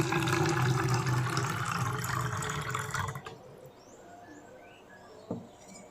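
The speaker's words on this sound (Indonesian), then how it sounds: "air Ibu masukkan ke dalam botol." Water is poured into a bottle, a dense gurgling splash for about three seconds that then stops, leaving quiet room tone with a faint knock.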